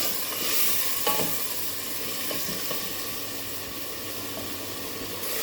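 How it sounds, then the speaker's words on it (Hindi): Pieces of mutton fry in hot oil in a pan, giving a steady, dense sizzle that stays loud and close throughout with a few faint stirring clinks and no talking. "गोश्त को इसमें आयल में काट लेंगे, भून लेंगे अच्छी तरह।"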